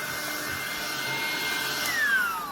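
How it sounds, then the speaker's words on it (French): A small apartment vacuum cleaner running indoors, giving a steady, close motor whine and airy hiss with a slight rise in pitch toward the end. "Excusez-moi, ça va faire du bruit. C'est le petit aspirateur. Le petit aspirateur d'appartement."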